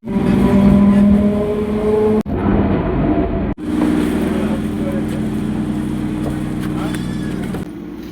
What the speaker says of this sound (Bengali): আমাদের ট্রেন ঢুকছে